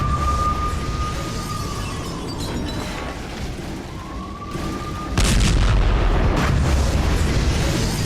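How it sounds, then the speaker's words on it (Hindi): An anti-tank missile attack in Galilee, Israel produces a low, continuous rumbling roar, then a sudden loud blast partway through that settles into heavier, sustained rumble; a thin whistling tone drifts over the noise earlier on. "इजरायल के गलील में यह बड़ा धमाका हुआ है।"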